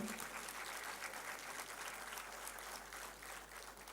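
A ceremony audience keeps up steady, continuous applause throughout, fairly distant and even in loudness, with no clear voices over it.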